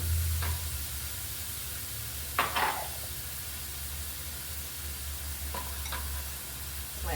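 Fried rice with garlic cooking in a pan, a steady soft sizzle under low rumble, broken by a few brief scraping stirs, with no talk.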